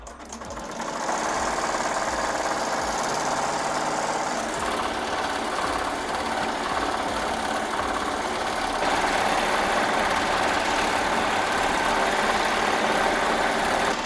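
An embroidery machine runs a quick trace over a hoop with tearaway stabilizer, giving a steady, close mechanical whir and rattle that holds at an even level throughout with no talking.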